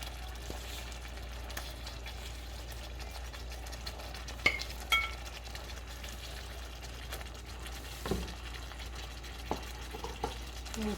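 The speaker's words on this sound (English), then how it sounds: "I'm just going to go ahead and add the meatballs directly into the sauce." Pork meatballs stirred into a pot of simmering sauce, a soft continuous bubbling and scraping with a few louder clinks of the spoon against the pot, low hum underneath, no talking.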